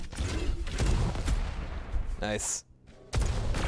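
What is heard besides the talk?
rocket and shotgun fire in a duel video game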